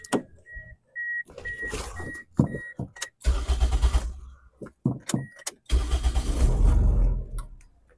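A multicab with a fuel pump problem being started: repeated key-turn clicks and a chime, then several cranking attempts before the engine catches and runs with a rough, low rumble, close by.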